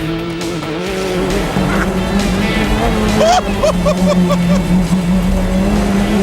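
Timo Salonen's rally car on a special stage in the south of France, its engine revving hard and rising and falling through gear changes with tyre squeal, loud and close from inside the cabin.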